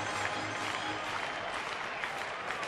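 A baseball crowd at a Houston-Pittsburgh game claps in a rally, a dense wash of distant applause and crowd noise that holds steady throughout, heard through a broadcast.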